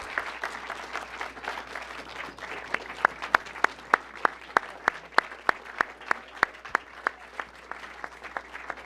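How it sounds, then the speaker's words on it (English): Applause from an audience honoring icons of 20th-century aviation, a steady wash of many hands with several sharp, louder individual claps standing out through the middle, continuing throughout. "please, one final round of applause for these icons of the 20th century aviation"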